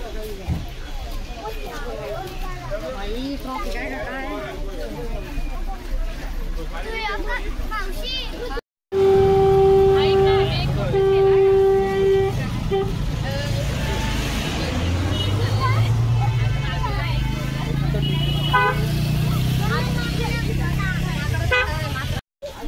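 Busy Saturday traffic on the road into Matheran, with several car horns honking in long steady blasts and short toots over rumbling engines and crowd babble nearby; people talk throughout.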